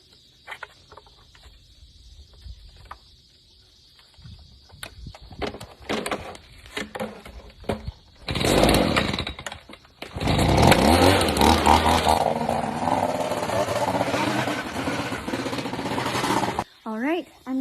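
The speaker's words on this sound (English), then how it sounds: "Now before I take a hose to Erin, I'm going to use my stihl leaf blower and blow off as many clippings as I can" A Stihl leaf blower runs loud and close, blowing grass clippings off a lawnmower, with its roaring airflow rising and dropping in bursts after quieter handling noises.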